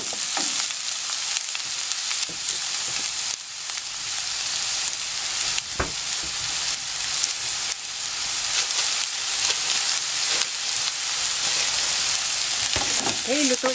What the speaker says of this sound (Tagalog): lutuin natin yung onion